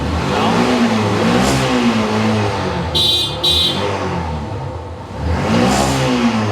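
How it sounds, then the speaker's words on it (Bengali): A second-hand Yamaha Fazer motorcycle engine revs up and down in repeated waves, loud and close, with a short high electronic beep partway through. "গাড়ির এখনো যে ডাক আছে, এই ডাক শুনলেই শান্তি"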